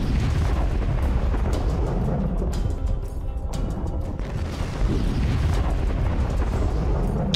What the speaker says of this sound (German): Oh, jetzt kommen Raketen, Vorsicht.